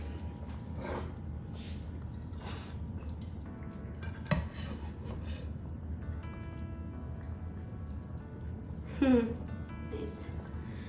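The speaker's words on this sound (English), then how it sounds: "So I'm gonna go ahead and dump the rice in here" Cooked rice tipped out of a HexClad hybrid pot in a kitchen, giving soft scraping and spoon-on-metal clinks with a couple of sharper knocks, under ongoing talk.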